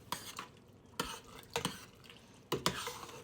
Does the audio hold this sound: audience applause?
no